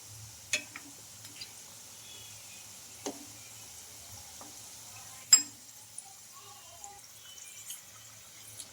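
A snack frying in a pan over a low flame gives a faint, steady sizzle with a few scattered soft pops and crackles, close by and with no talking.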